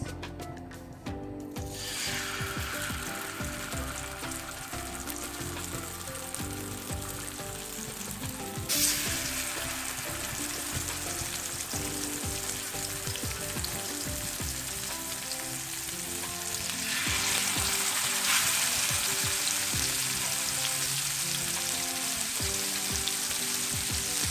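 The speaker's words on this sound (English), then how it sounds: "So the oil has become really hot. Let's put the fish pieces." Fish pieces frying in about a quarter cup of hot coconut oil on a tawa, a loud, continuous crackling sizzle that flares up as pieces hit the oil and grows brighter toward the end.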